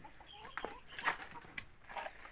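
Chickens clucking in a backyard coop, a scatter of faint, short clucks and calls at a distance over steady outdoor background noise.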